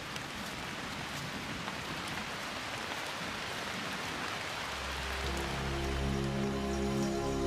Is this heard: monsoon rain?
yes